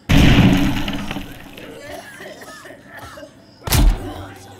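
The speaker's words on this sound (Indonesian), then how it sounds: "Awas meledak." A blast goes off in the tactical shooter Zero Hour, two heavy thumping bursts, one at the start and another near the end, loud and close, with players talking in between.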